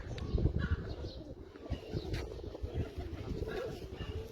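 Champion racing pigeons cooing, soft low burbling coos repeating under faint background chatter and rustle, fairly quiet and close.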